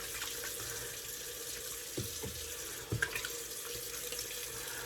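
A bathroom tap runs steadily into a sink as the face is wetted before a shave, a constant close wash of water with a few faint knocks and splashes partway through.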